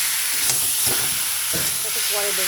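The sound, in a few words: water added to sizzling fried masala in pan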